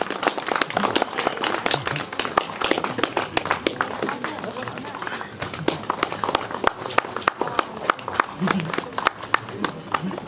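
Audience applause at a book launch and honouring ceremony in Darjeeling: dense, steady clapping from a crowd throughout, fairly close and loud, with some voices mixed in.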